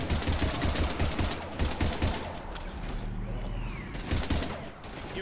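Rapid, dense gunfire in the sci-fi shooter Mass Effect 3, a loud continuous fusillade close by with combat noise behind it and voices speaking over it.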